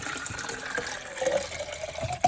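Water is poured to fill a bottle, a soft continuous trickling and gurgle with a rising fill tone, fairly close and steady with a few brief splashes and no talking.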